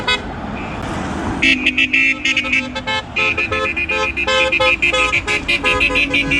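Car horns honk repeatedly in overlapping, uneven bursts over rumbling traffic, loud and close, as a wedding motorcade passes in Armenia.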